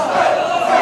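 A wrestling arena crowd at a tag match roaring and cheering loudly, a dense sustained wall of voices in a short burst.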